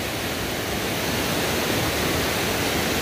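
A mountain river in the Aragonese Pyrenees rushes beneath a footbridge, making a loud, constant broadband roar of churning water that fills the whole moment without pause or speech.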